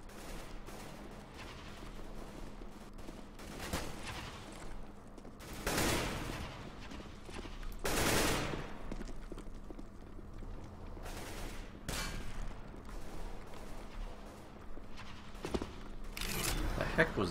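Counter-Strike: Global Offensive gunfire, scattered sharp shots and short bursts at varying distances, some loud and close, spaced irregularly over a quiet background with occasional speech.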